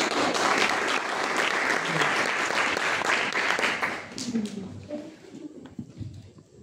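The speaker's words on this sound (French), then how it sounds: "on applaudit le reste" Audience at a primary school pupils' show claps loudly and densely, then the applause tapers off while voices and scattered sounds rise at the close.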